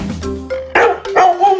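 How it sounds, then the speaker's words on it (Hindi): A cartoon dog barks a few short, loud yaps over a bright children's nursery-rhyme tune, the barks landing in quick succession near the end. "नहीं बाटलीटो, ये कुत्ते की आवाज है।"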